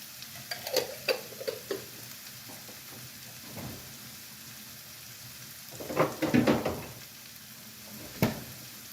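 Ginger-garlic paste hits hot oil in a pan, giving short bursts of sizzling and crackle, strongest near the middle and end, with quieter stirring between and no talking.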